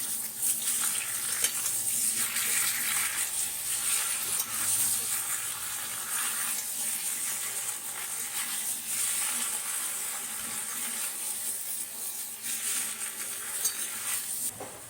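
Ginger paste and cumin paste sizzle in a pan as they are stirred, giving a continuous close hiss with gentle swells and scraping movement throughout.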